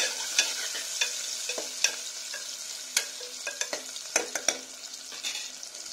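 Onion and potato are stirred and sautéed in a pan for khichdi, with a spoon scraping and clacking in irregular taps over a soft, continuous sizzle.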